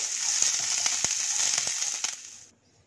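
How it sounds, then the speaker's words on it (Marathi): Chopped vegetables such as beans and carrots sauté in a pan over a low gas flame for sweet corn upma, giving a steady close hiss with scattered crackles that cuts off near the end. "यात आपण हे 1 मिनिट असं मंद गॅसवरती परतूया"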